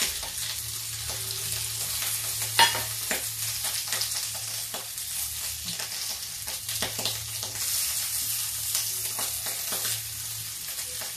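Cut potatoes and beans sizzle in a pan for a Shivratri fast meal, a steady crackling fry with scattered stirring clicks and scrapes, close up and without talking.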